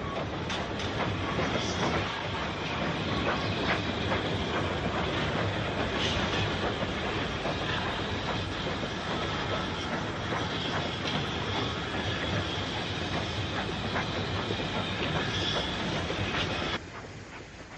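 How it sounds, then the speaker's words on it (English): A steam freight train with an L.M.S. brake van at the rear rumbles past steadily and loudly for a long stretch, wheels clattering over rail joints, before the noise drops off at the end. "A standard L.M.S. brake van is at the rear of this train."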